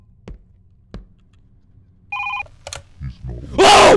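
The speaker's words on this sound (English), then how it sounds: "I'ma answer the phone" A telephone rings in a short double burst of electronic tones, preceded by a few soft knocks and followed by handling noise, then a loud rushing hiss at the end.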